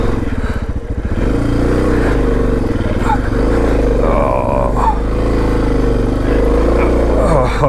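Suzuki DR650 dual-sport motorcycle on fresh Tusk D Sports tires climbing a steep, loose mountain trail with hairpin turns: a loud, continuous thumping single-cylinder engine note that rises and falls with throttle, with gravel clatter underneath.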